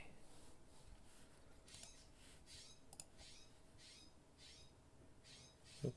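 Bird mating call outdoors, a series of repeated raspy squawks in an irregular rhythm, moderately distant and fairly faint over background hiss, ending with a close thump.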